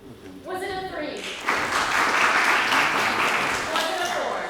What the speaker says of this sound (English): it's a speed round, so we will clap quickly